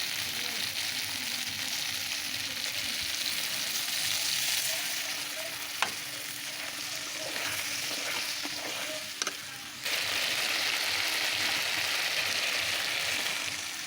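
Country chicken curry sizzles and fries steadily in a pan while being stirred, with a few sharp scrapes of the spoon partway through and a brief dip before the frying noise swells back loud and continuous.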